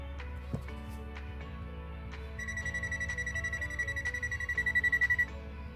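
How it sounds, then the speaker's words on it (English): A Zoyi ZT-QS7 clamp meter held near a live outlet emits a rapid series of electronic voltage-detection beeps that speeds up into a pulsing tone, over a low steady hum. "I'm hovering the meter near this live outlet and it beeps up, indicating voltage presence."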